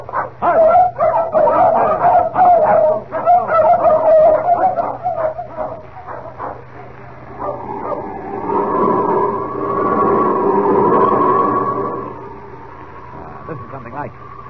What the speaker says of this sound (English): Gotta take these dogs part of the way, just for the sake of appearances.